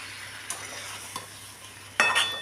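Lote fish, also called Bombay duck, tossed with spices in a pan, giving a soft stirring scrape with faint sizzling and a couple of light taps, then a louder burst of frying hiss near the end.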